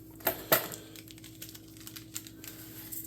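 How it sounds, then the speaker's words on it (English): Two sharp snips of scissors cutting through a seasoning packet, followed by faint rustling and small clicks in a quiet room. "Sometimes you need the scissors."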